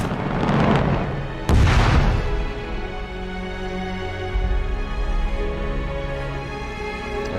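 Sci-fi space weapon firing from The Expanse, a loud booming blast with a sharp second burst, followed by a long rumbling, ringing decay with low thuds underneath.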